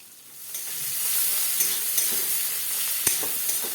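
Chopped onion frying in a pan for a cabbage and koi fish curry, stirred with a spatula: a steady close sizzle with light scraping strokes and one sharp clink near the end, no talk.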